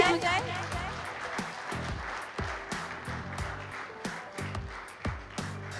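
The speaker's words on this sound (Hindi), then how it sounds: "जोरदार तालियां हो जाए" A crowd claps steadily at a promotional event for the film Bezubaan Ishq, the dense applause mixed with loud, rhythmic stage music and a busy hum of voices, fairly close and sustained throughout.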